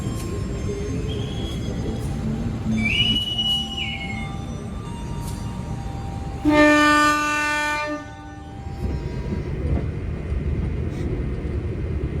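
A KA Majapahit economy passenger train stands at a station and prepares to depart. Loud rumbling and hiss of the train fill the scene, a short whistle tone comes first, and then a long, loud multi-tone horn blast sounds close by.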